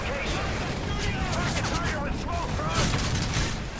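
Continuous gunfire and booming shots fill a Modern Warfare 3 firefight in Paris, a dense, steady barrage with low rumbling impacts running throughout the clip.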